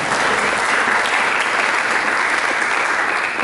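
Sustained applause from a church congregation at a Christmas service, dense and steady throughout, with no voices over it.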